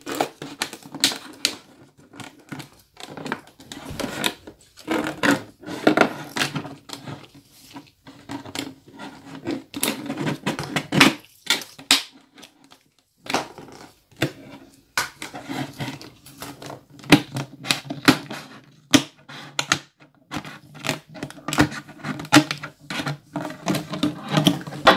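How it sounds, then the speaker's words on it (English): Scissors snip through a plastic water bottle in a long run of crisp, rapid cuts with short pauses, close and fairly loud, with no voices. "I'm going to snip."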